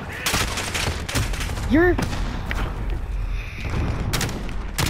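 Bursts of video game gunfire crackle in rapid volleys close up, repeated sharp shots scattered through the stretch, with a player speaking briefly over them.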